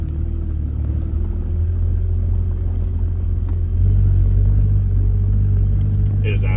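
A 6.7 Cummins diesel truck with a straight-pipe exhaust, heard from inside the cab with the back window open, gives off a loud, steady low drone that deepens and swells partway through as it pulls away.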